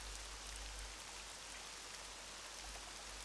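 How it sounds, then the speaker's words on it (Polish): Rain falls steadily in RollerCoaster Tycoon 3, a soft, even hiss of drops with a low rumble beneath, quiet and unbroken throughout. "Teraz jeszcze widać deszcze jakieś padają."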